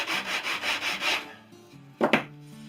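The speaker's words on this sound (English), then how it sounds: "I'm just sanding down at the moment with" 80-grit sandpaper rubs back and forth over wood in about six even strokes, then stops; a couple of soft knocks follow. Close and fairly quiet, no speech.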